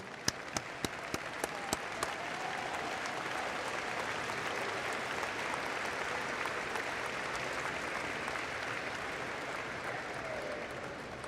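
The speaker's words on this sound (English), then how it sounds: "them a round of applause." Audience at the 2014 Glen Este High School graduation applauds the graduates' families, a steady, dense clapping that fills the hall after a few sharp opening claps, continuing evenly throughout.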